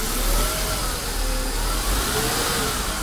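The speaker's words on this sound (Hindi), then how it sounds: "हम आपको थोड़ा रेस करके दिखाते हैं" A Mercedes C 200 Kompressor engine revving loudly and close by, its steady roar rising and falling slightly with the throttle, with no voices over it.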